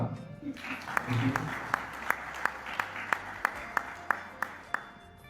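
Crowd applause at a gathering celebrating 207 treated children, a dense wash of many hands clapping near and steady, with a sharp rhythmic single clap repeating about every third of a second on top.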